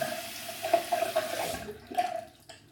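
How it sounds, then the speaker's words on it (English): A shaving brush rinsed under a running tap, a short burst of splashing, gurgling water that pulses a few times, stops, and briefly restarts, faint and close with no talking. "Then I'm gonna rinse the brush and do it all over again"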